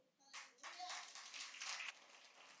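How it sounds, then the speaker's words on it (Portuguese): Church congregation applauding during a Sunday service, a short burst of crowd clapping that starts near, swells toward the end, then fades. "Aplauda o Senhor."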